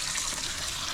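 Tap water gushing steadily into a container being filled to soak and clean freshly caught yabbies, a continuous close splashing rush with no pauses.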